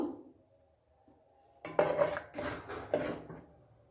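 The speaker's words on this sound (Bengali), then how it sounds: "কড়াইতে দিয়ে দিলাম, এখন ঢাকনা দিয়ে দেব" A metal lid scrapes and clatters onto a wok of steaming bottle gourd, giving several close, ringing clanks after a quiet start, with no voices.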